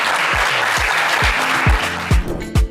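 A studio audience applauds the day's winner on the game show Le Coffre Magic, a steady wash of clapping punctuated by about six deep, regular thumping beats, with a brief voice at the end.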